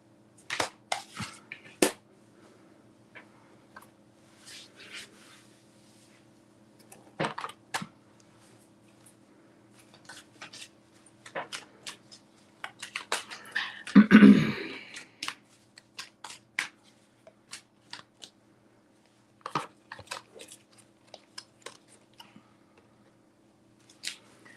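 A deck of tarot cards is shuffled in scattered bursts of soft riffling and snapping, close and quiet, with one louder flurry midway and pauses between.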